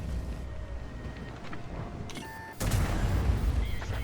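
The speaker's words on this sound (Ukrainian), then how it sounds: "хоч один разок по ньому бахну" A tank cannon fires in World of Tanks, a single sharp, loud blast that cuts in midway and is followed by a rumbling tail, over quieter engine and battle noise.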